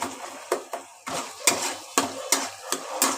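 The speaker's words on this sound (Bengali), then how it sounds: "ভালো করে মশলাটাকে কষাতে হবে" Spice masala with Kashmiri chili powder and sugar is stir-fried in a pan, making a series of sharp, close utensil scrapes and knocks in an uneven rhythm over a soft sizzle.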